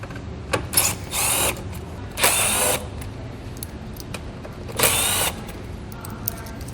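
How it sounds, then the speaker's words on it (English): Bursts of a power driver with a T15 Torx bit backing out bolts from the front fascia grill of a 2019 vehicle, three or four short whirring runs, close and fairly loud over a quiet garage background. "we're going to take a T15 Torx bit. We're going to remove the bolts that are holding this front fascia grill on"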